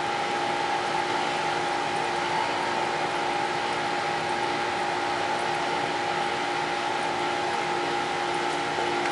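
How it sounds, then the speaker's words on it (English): A steady mechanical hum with a faint whirring drone runs continuously in the background from a neighbor's air conditioner running nearby. "Our neighbors have their air conditioner on"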